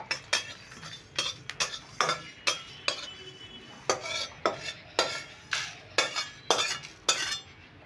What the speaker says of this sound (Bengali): এবারও আমি 2 মিনিট মতো নেড়ে ভেজে নিচ্ছি